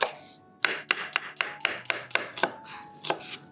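A knife chops spring onion on a board in about a dozen quick, crisp strikes at a brisk, slightly uneven pace, close and loud with no voices.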